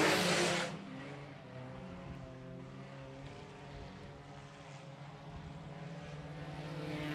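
Sport compact race cars working down the front straightaway of a raceway, a sustained buzzing engine drone with harmonic whine, fairly faint and distant after a brief burst of noise at the start.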